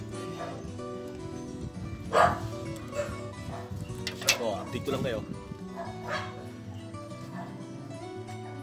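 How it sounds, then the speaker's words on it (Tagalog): Neighbours' dogs bark and yip in a few sharp bursts, a little distant, while a person talks over them. "Nagtakulan yung mga aso rito sa mga kapitbahay ko."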